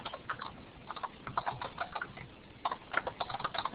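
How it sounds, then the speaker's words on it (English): Typing on a computer keyboard while entering text in a shared Google Doc, an uneven patter of quick, soft key clicks with small pauses between bursts, close and quiet, with no speech. "I'll just type"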